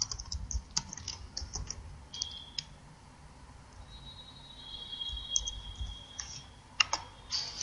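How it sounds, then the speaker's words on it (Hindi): Password being typed on a computer keyboard: irregular bursts of close, crisp key clicks with short pauses between, a steady faint tone running underneath, and no talking. "तो चलिए मैं सही पासवर्ड एंटर करके आपको दिखाता हूँ"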